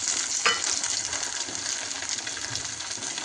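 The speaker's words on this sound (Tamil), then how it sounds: "தக்காளி போட்டுக்கலாங்க" Tomatoes frying in a pan with curry leaves for egg kulambu, a steady, even sizzle that opens with a brief clatter as they go in.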